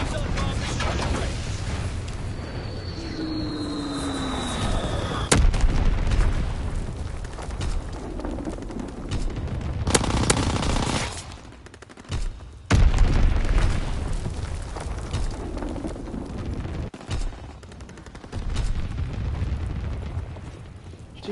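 Booming explosions and bursts of anti-aircraft fire aimed at enemy aircraft during a bombing mission, loud and dense with rumbling low end, several sharp blasts punctuating a continuous roar, and a descending whistle early on.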